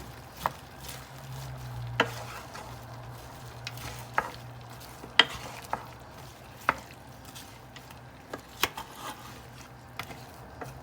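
Meat and onions cooking gently in a pan without added water, a soft low sizzle under repeated clear spoon stirs and scrapes every second or so.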